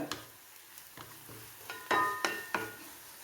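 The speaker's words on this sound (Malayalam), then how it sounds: "വെളുത്തുള്ളി ഇഞ്ചിയും മൂത്ത് വന്നിട്ടുണ്ട്." Garlic and ginger frying in hot oil for a lemon curry, with a soft steady sizzle broken by several sharp clinks and scrapes of a spoon against the pan, close and moderately loud, no voices.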